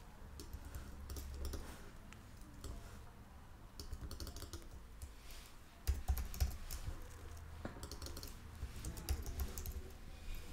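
Quiet, steady typing on a computer keyboard at close range, with rapid clicking bursts broken by brief pauses and no voice.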